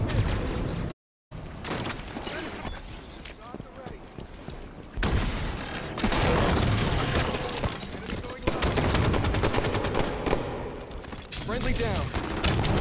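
Heavy gunfire from a Halo 5: Guardians Firefight match, with dense automatic bursts and booming shots running almost nonstop under game voice callouts, broken only by a brief silent gap near the start.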